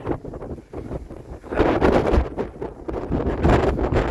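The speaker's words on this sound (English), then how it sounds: "Very windy day." Strong wind gusting and buffeting against the microphone on a mountain pass in Chile, a roaring, rumbling rush that swells louder midway and keeps blowing throughout.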